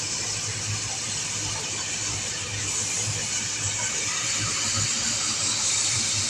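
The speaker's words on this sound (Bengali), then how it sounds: "আর ডিমটা আমি ভেজে নিচ্ছি।" An egg frying in a pan with green chillies in a home kitchen: steady close sizzling and hissing spitting from hot oil, constant throughout with no talk.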